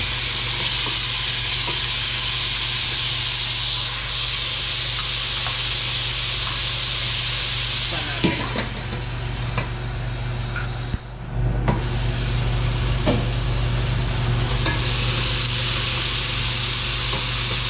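Tomatoes sizzle and sauté in a hot pan for mung bean stew while an exhaust fan hums steadily, punctuated by occasional stirring scrapes and a brief clatter midway.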